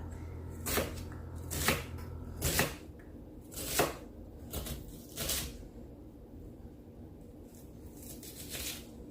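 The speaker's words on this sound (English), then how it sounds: "I'm going to go ahead and dice this onion up." A knife dices an onion on a cutting board, a steady run of crisp, close chopping strokes spaced about a second apart, with no talking.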